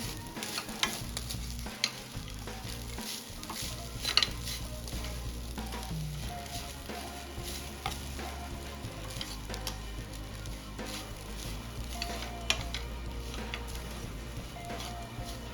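Grated fresh coconut sizzles steadily in ghee in a pan while it is stirred for karanji filling. The frying hiss is continuous and close, broken by occasional scraping and clicking of the spoon.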